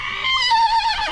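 A horse at a horse rescue lets out a single clear whinny, close and loud, its pitch wavering and then dropping away over about a second, with no voices.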